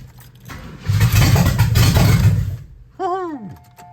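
A station wagon engine, fresh from a head gasket replacement with the choke closed, cranks for about two seconds with a loud churning starter, then falls quiet before a voice cries out.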